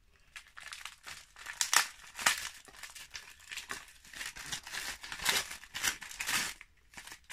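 A gift package covered in lots of tape is unwrapped up close: repeated crinkling, crumpling and tearing of paper and tape in irregular bursts at low-to-moderate loudness.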